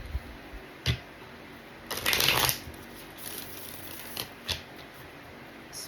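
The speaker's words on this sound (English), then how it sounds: "we're gonna put my deck there and shuffle on the selenite" A tarot card deck is shuffled on a selenite slab, close and alone, with a dense riffling burst in the middle framed by scattered soft taps and card snaps.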